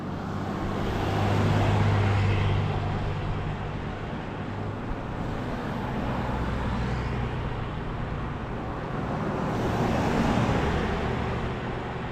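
Cars rumble past on a steep mountain road in Colorado's Forest Canyon, a steady low roadway hum with gentle swells as vehicles approach and recede, heard without talk.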